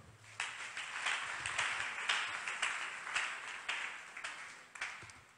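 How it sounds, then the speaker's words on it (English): Audience at a church talk on love and relationships breaks into sustained applause, a dense rolling burst of many hands clapping with repeated peaks for about five seconds. "Clap for them."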